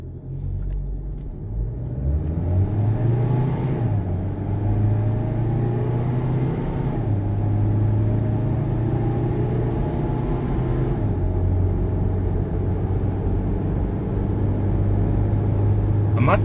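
A Mahindra PikUp Karoo Storm pickup holds a loud, steady engine drone up close, its pitch climbing through gear changes as it accelerates hard from a standstill, with no talk over it.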